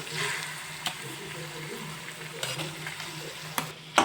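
Boiled potatoes being stirred into hot spiced oil in a pan for Kutchi dabeli, a steady close sizzle with occasional scraping knocks of the spoon, no talk.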